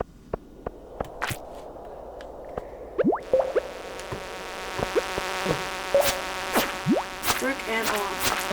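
Buzzing insect enemies in the Stardew Valley video game drone steadily, with pitched buzzes sweeping up and down over a constant game hum and scattered sharp clicks and taps.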